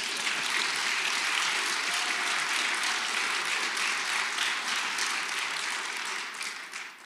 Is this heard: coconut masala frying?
no